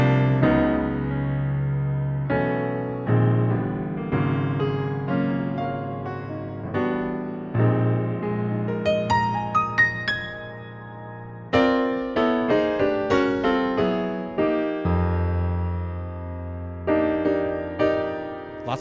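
Jazz-style piano chords with suspensions, played solo in sustained voicings with a brighter, more rhythmic passage midway, close and clear with no voices.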